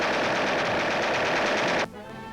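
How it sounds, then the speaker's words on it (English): Rapid machine-gun fire from a bomber's gun turret during aerial gunnery training at airborne target discs, a dense, loud continuous burst that cuts off abruptly near the end. "sharpshooters learn to use aerial machine guns, training their fire upon small discs hurled by a machine into the air"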